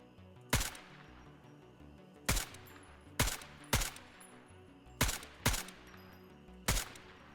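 Gunshots in the military shooter game Incursion: Red River, seven loud sharp rifle cracks fired singly at irregular intervals, each with a short echoing tail.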